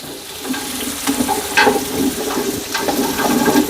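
Diced onion hitting a hot pot for fried cabbage, crackling and sizzling continuously with a few sharper spits and pops, close and fairly loud, no talking.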